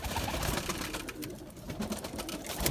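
Pigeons in a loft in İzmir coo softly and continuously over a noisy, hissy background, their low murmuring repeated through the brief stretch with no one talking.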